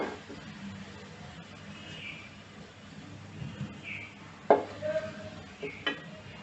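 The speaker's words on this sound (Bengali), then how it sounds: "পেঁয়াজটা ভাজা হয়ে গেছে, তো আমি একটু পেঁয়াজ ভাজা তুলে নেব।" Fried onions being lifted out of a pan while cooking beef biryani: a faint sizzle runs underneath, and a few sharp utensil clinks and scrapes come near the end.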